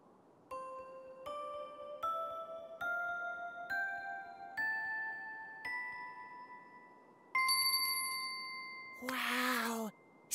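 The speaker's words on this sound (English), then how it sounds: "Wow! Singing bells!" Bright singing bells from an animated children's Christmas show chime one after another in rising pitch, about eight clear ringing tones, followed by a brief whooshing sparkle at the end.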